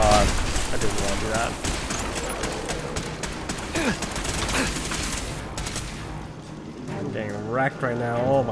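Rapid gunfire bursts in Fallout 4 inside Fort Hagen, a dense run of loud, close shots over several seconds with a voice talking over the shooting.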